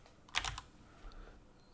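Computer keyboard typing: a quick burst of several key clicks near the start, then a couple of softer taps, close and fairly quiet in a still room.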